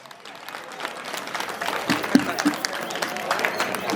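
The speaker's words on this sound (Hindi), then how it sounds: "सर का जो है वो तालियों से स्वागत किया जाए।" An audience applauds to welcome a guest at a Women's Day event in a village panchayat, clapping building up from faint to a fuller, uneven round, with voices audible beneath.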